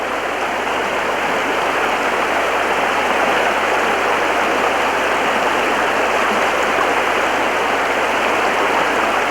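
Loud, steady rush of a clear stream flowing over stones, with continuous broadband churning and no pauses; wading disturbance blends into the constant water noise.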